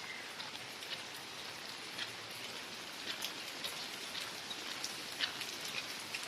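Steady rain patters continuously on a surface, with scattered drops tapping louder now and then, no voices.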